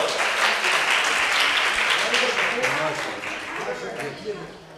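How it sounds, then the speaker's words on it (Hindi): Dense, steady applause fills an art council hall in Gujranwala as a young prize winner is honoured at a competition, the clapping loud and sustained before tapering slightly at the end, with voices mixed in. "ओ, तालियां लगा दो।"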